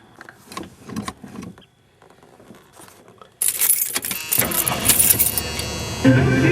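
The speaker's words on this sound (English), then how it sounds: "It required a little more cranking to get it initially started because it hadn't been driven in several weeks" A 1978 Mercury Grand Marquis engine cranks and fires at close range, the car sitting after weeks without being driven; quiet handling noises and key jingles come first, then the engine abruptly catches and runs loud and steady.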